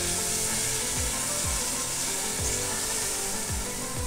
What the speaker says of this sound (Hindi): साथ ही हम इसको तड़का लगा देंगे इस तरह से ऑयल का।